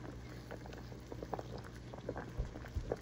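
Potatoes boil in a pot of water, giving close, quiet bubbling with scattered small pops and no talk.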